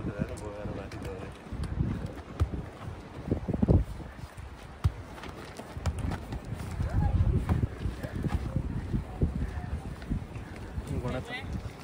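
Horse hooves clip-clop along a mountain trekking trail in Langtang, steady footfalls close by under wind and ongoing conversation.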